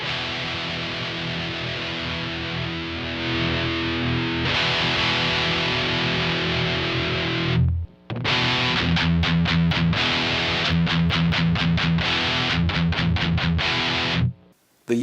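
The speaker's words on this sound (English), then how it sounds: "The use of a distortion pedal allows a lot more tonal possibilities" Heavy metal electric guitar played through a distortion pedal with the gain turned all the way up, loud and continuous, sustained saturated chords giving way to tight, rhythmic palm-muted chugs with short stops.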